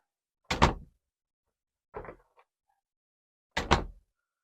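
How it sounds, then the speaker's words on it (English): A room door is worked three times: two sharp, loud knocking thuds with a softer, lighter clunk between them, each separated by quiet pauses, close up in a quiet room. "Let's do the door into my room."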